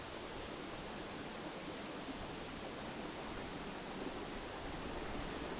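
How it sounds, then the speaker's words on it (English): Dill Falls in North Carolina pours at its base as a steady, broadband rushing roar, even and continuous from start to finish with no voices. "you'll arrive at the base of the waterfall"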